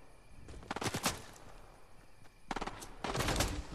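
In a shooter video game, rapid bursts of automatic gunfire crack out in several clusters, some sharper and closer, others more distant, over a low background hum.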